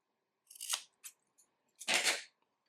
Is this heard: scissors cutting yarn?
yes